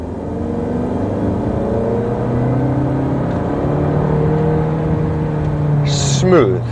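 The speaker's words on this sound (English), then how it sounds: "Listen to the engine now." Jaecoo J7 Glacier SUV engine while driving: a steady, smooth low hum and rumble running throughout, with a brief louder whoosh near the end; a voice talks over the steady drone.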